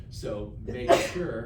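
A person sneezes once, sharply and close by, in a classroom during a lecture on derivatives, with talk just before it.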